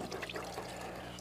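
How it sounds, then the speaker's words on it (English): A 2-inch oil-painting brush is swished and washed in a container of liquid, making a quick, close sloshing and trickling sound. "Wash my brush."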